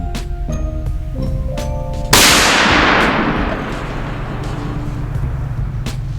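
A Winchester Model 37a shotgun fires a deer slug in one sharp, loud blast whose echo rings out and slowly fades, with steady background noise before and after.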